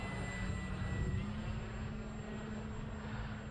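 An E-flite Carbon Z T-28 RC airplane on a 6S electric setup flies overhead, its motor a steady distant drone holding evenly in the open air without speech.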